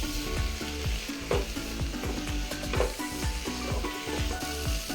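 Chopped mild tomatoes sizzle and fry in a pan for a spicy chicken dish, with a spoon scraping and stirring in a steady, busy rhythm throughout, close and clear with no talking.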